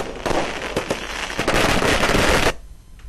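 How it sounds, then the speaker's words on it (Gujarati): Firecrackers burst during a nationwide street celebration, a loud, dense crackling barrage of rapid pops that stops abruptly near the end. "ફટાકડા ફોડીને લોકોએ અભિનંદનને વધાવ્યા હતા."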